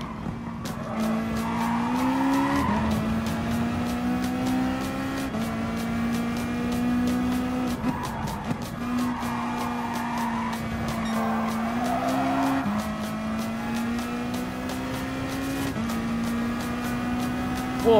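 A race car in Gran Turismo Sport runs at full throttle, its engine droning loud and steady with rising pitch sweeps through gear changes, tires squealing at times.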